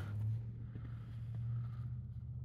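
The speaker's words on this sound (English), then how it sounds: "What, a car drove by." Car driving past outdoors, a low steady engine rumble with road noise that swells slightly and then eases as it goes by.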